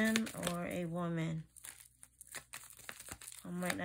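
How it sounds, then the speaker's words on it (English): Tarot cards being shuffled fast in the hands make a dense papery crinkling and riffling, close and fairly loud, between stretches of someone speaking at the start and end. "I'm trying to shuffle so fast"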